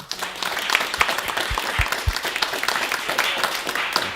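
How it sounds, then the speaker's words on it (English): A reunion audience gives itself a round of applause: lively, close clapping with a few sharp individual claps standing out from the dense patter, and scattered crowd noise throughout. "give yourselves a round of applause"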